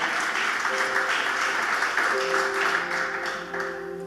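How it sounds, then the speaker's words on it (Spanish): A church congregation claps together in steady, sustained applause for the Lord during a sermon, with faint voices and tonal sounds underneath. "Aplaudan al Señor para que se anime"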